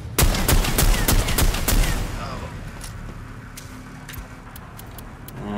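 Gunfire from the Necromunda: Underhive Wars video game: a rapid burst of sharp, loud shots for about two seconds, then a quieter stretch with a few scattered distant cracks and rumbling ambience.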